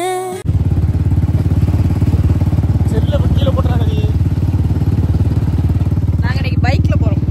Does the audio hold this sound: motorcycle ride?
yes